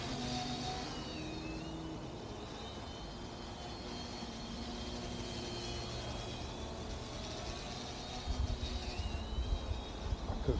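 A quiet sub-150-gram single-cell 5-inch homebrew quadcopter flies in line of sight, its faint whining hum wavering in pitch against steady background noise, with a rougher burst near the end.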